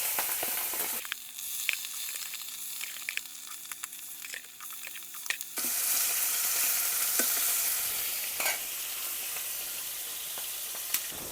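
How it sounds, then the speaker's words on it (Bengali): Hilsa fish frying in hot oil for a curry, a steady close sizzle that swells louder midway as more pieces go into the pan, with occasional stirring clicks. "মাছ ভাজা হইতেছে"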